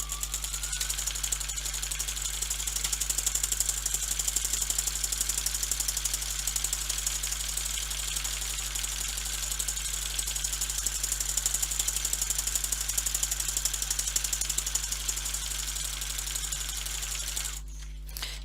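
A Brother NV1800Q sewing machine stitching a buttonhole, a fast steady mechanical chatter that goes on evenly and quietly, close up, for the whole stretch and stops near the end.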